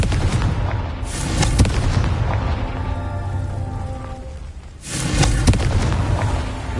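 A Confringo blast spell goes off in a Harry Potter video game, landing as a loud broadband boom around the one-second mark and again near five seconds, with crackling, rumbling debris and a low roar in between.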